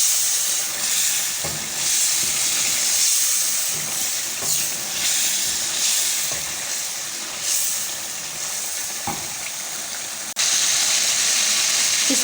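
Chicken karahi with green chilies and spices fries and sizzles steadily in a pan, a loud dense hiss with occasional stirring scrapes and clatters throughout.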